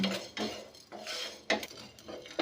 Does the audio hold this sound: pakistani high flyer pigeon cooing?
no